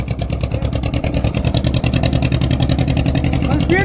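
A fishing boat's engine is put in gear and sped up, giving a loud, close, rhythmic chugging throb that holds steady throughout, with a brief voice at the very end.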